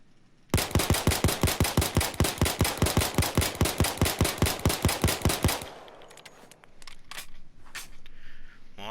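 M9 Beretta 92 pistol firing in Payday 2, a rapid, evenly paced string of about twenty-five loud sharp shots over five seconds, followed by quieter clicks and handling sounds.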